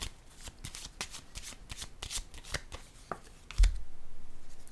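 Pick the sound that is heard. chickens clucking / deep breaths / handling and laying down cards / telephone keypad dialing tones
handling and laying down cards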